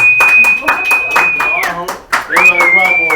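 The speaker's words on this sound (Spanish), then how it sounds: "Vamos a darle un aplauso a Edward." Audience clapping for a child named Edward at a church service, several sharp irregular claps from a small group, mixed with a sustained high tone and nearby voices.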